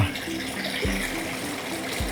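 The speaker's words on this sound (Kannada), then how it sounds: "ಈ ಬಾಲ್ರಲ್ಲಿ ನೀರು ಹರಿಯುತ್ತಲ್ಲ" Water runs through a channel around a farmhouse garden with a soft, continuous rush and a few low thumps, fairly faint throughout.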